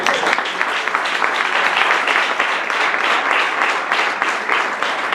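A church congregation applauds during a Spanish-language sermon, a dense, steady roar of many hands clapping together at full volume for about five seconds, with no talk over it.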